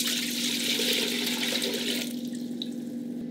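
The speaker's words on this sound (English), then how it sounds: "So I'll add 8 cups of water" Tap water runs steadily into a pot on a kitchen stove for homemade ginger ale, a close, continuous splashing rush that stops abruptly near the end, leaving a faint hum and a small clink.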